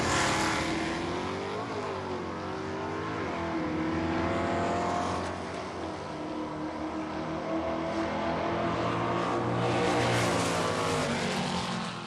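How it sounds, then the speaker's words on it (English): At a drag strip, a 1969 Chevy Camaro and a 1968 Ford Mustang 428 race side by side, their V8 engines roaring loudly and continuously, rising in pitch through gear changes. "It's Chevy versus Ford, with Danny Kellums in a 69 Camaro"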